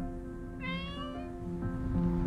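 A cat meows in the video game Copycat, one clear rising-then-falling meow near the middle, heard over soft steady game music with no talking.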